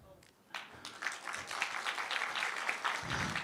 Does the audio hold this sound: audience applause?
yes